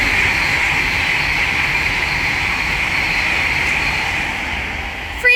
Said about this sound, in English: right there is an Avanti West Coast Class 390 Pendolino from Birmingham New Street to London Euston